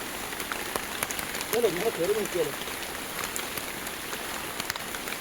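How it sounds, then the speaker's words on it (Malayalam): Heavy rain pours down steadily outdoors in Kerala as a soft, even hiss with scattered patters, and a brief faint voice is heard partway through. "അത്യാവശ്യം നല്ല രീതിക്ക് മഴ പെയ്തുകൊണ്ടിരിക്കുന്നുണ്ട്"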